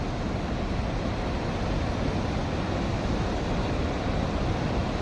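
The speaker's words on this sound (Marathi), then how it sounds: "पाण्याचा धो धो आवाज." A dam filled to the brim and overflowing, its water gushing in a dense, unbroken roar that stays steady and loud throughout, with no other sounds and no voices.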